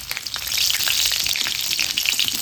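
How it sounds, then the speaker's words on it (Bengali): Slit green chillies drop into hot oil already seasoned with five-spice tempering, giving a steady, loud crackling sizzle with bright spitting bursts throughout. "এবার দিয়ে দেবো চেরা কাঁচা লঙ্কা 4টে।"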